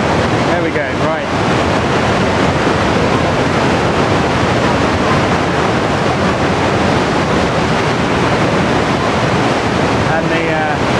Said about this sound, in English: And the falls go down there, and the cascade.